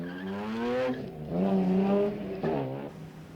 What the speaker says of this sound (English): Tony is barely able to strap up before the BM is back in the race.